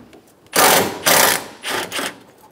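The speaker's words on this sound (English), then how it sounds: "Using a 12 millimeter socket, remove the two bolts holding the brackets for the radiator." A 12 mm socket ratchet clicks in three quick, loud bursts while removing the radiator bracket bolts on a 2010-2014 Subaru Outback.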